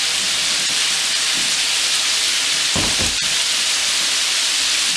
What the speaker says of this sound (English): So I'm going to let that fry up.